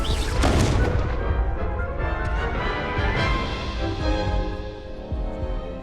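Confringo fire spell blasting in Hogwarts Legacy on PS5, a loud booming explosion burst at the start that rolls into a sustained crackling, rumbling roar with further thuds over several seconds.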